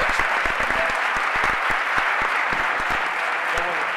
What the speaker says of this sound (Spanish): Yo creo que se merece un fuerte aplauso